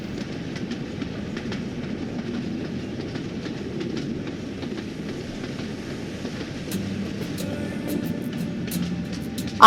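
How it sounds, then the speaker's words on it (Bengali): The Jammu Rajdhani train pulls into platform 16 at New Delhi railway station on a winter night. Its low rumble and steady wheel clatter continue throughout, with faint station background and a sharp noise at the very end. "এই আমাদের ট্রেন ঢুকছে জম্মু রাজধানী নিউ দিল্লি রেলওয়ে স্টেশনের ষোলো নম্বর প্ল্যাটফর্মে"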